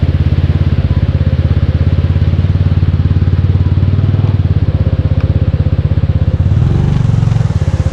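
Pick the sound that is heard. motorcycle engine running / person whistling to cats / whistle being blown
motorcycle engine running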